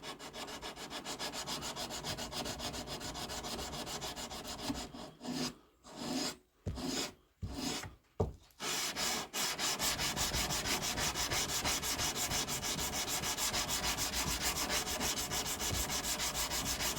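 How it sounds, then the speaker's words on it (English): A drop point hunting knife blade is hand sanded with steady, rapid back-and-forth rasping strokes, close and continuous, with a few short pauses between bursts midway through. "That's 15 minutes of hand sanding."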